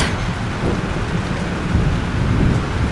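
A thunderstorm in the video game Life Is Strange: steady, dense rain pours with low rumbling thunder rolling underneath, loud and continuous throughout with no voices.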